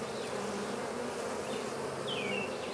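Bees buzzing around a hive in a cat house, a dense continuous hum with individual insects droning past close by, steady and moderately faint.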